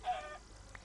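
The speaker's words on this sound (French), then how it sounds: "On va tuer ce dernier poulet." One chicken clucks in the Minecraft video game: a brief, moderately clear squawk at the start, then a tiny second peep, set against a quiet, steady hum.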